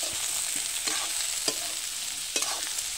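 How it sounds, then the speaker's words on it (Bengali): Jackfruit curry fries in oil in a pan while being stirred, a soft steady sizzle broken by several sharp scrapes and clacks of the spoon, close by with no talking. "এবার কাঁঠাল দিয়ে ভাজি, লাল লাল করে কাঁঠাল দিয়ে ভাজলাম"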